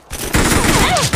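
A Gatling gun fires in a competitive shooter video game. It sounds like one loud, unbroken stream of rapid, rattling shots that starts after a brief lead-in and lasts about a second, with no talking over it.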